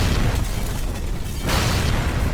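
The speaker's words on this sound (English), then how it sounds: "Target locked. Fire. Firing main cannon." A tank's main cannon fires in the Red vs Blue machinima series, a loud booming blast and explosion that rumbles, eases briefly, then surges again with debris-like roar.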